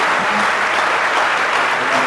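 A church congregation at an Ash Wednesday Mass claps loudly and continuously in acclaim, a dense, even wash of many hands nearby with no voices standing out.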